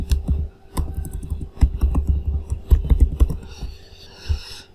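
Someone types a password on a computer keyboard, producing a close series of irregular, crisp key clicks over a few seconds with a faint background hum.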